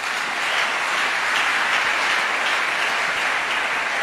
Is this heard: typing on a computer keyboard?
no